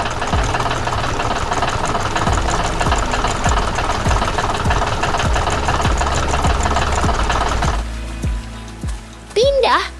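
A tractor engine chugs and knocks steadily up close for most of the stretch, then cuts off abruptly, leaving a brief squeaky sound at the end.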